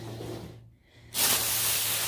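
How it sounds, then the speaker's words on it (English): A brief pause, then a loud, steady hiss of a can of black spray paint spraying up close, continuing without break. "So I'll figure I'm going to spray paint that black"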